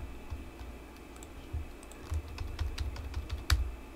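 Typing on a computer keyboard, with irregular bursts of clicky keystrokes that get busier toward the end and one louder, sharper key hit, close-miked and quiet, with no voices.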